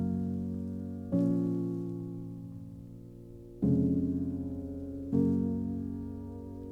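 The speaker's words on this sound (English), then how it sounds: "So the chords we're going to be using in this tutorial today sound like this." Sustained synth chords for an electronic music track: four long, warm chords, each struck then slowly fading before the next, played alone with no voice.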